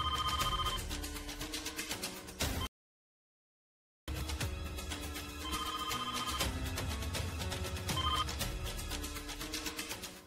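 A telephone rings loud and close in repeated trilling bursts, stopping briefly for a short silent gap before ringing resumes, with no one speaking over it.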